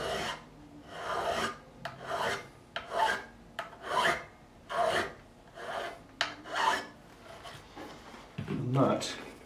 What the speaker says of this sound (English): changing over to a fine number 4 cut file, which we always clean the file before we use it